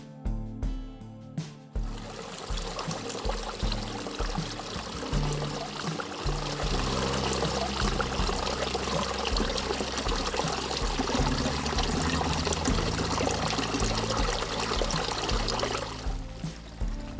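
Spring water pours in a steady, full stream into a container for most of the stretch, splashing and gurgling close by, then tapers off.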